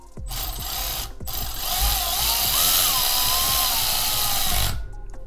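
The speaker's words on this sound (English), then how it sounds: "Take our Milwaukee electric ratchet, like the best thing ever." A Milwaukee electric ratchet whirs for several seconds, a loud close mechanical buzz that wavers in pitch as it drives a fitting during a power steering kit install, with brief clicks before and after.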